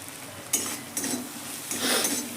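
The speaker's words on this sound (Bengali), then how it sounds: "পাওভাজি মশলা দিয়ে কিন্তু আমি আবার একবার নেড়ে নেবো।" Vegetables with pav bhaji masala being stirred in a hot pan, several short scraping strokes of a spoon over a continuous low sizzle, close and fairly loud.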